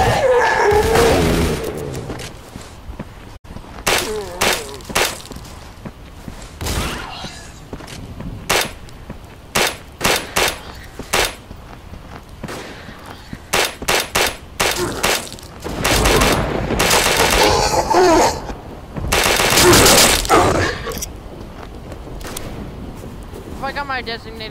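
Gunfire in the Roblox game Those Who Remain, shooting through walls: repeated loud bursts of rapid shots in clusters with brief pauses between, under and between stretches of talk.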